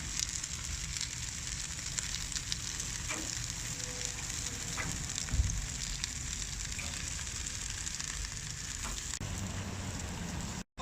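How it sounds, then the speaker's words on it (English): Prawns sizzle steadily on a hot char-grill, a loud, close, continuous crackling hiss with a few pops throughout, cutting off abruptly at the end. "What I'm going to do is cook the prawns."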